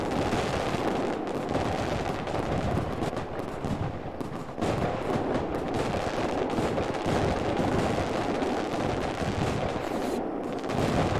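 Dense, continuous crackling bangs and booms of video-game fireworks from Fireworks Simulator Realistic pound on without pause, loud and close, with a voice briefly speaking over them.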